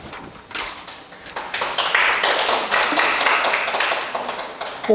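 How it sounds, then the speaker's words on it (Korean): An audience at a village community lecture claps, scattered taps that swell into fuller, continuous applause before ending abruptly. "이게 무슨 박수죠?"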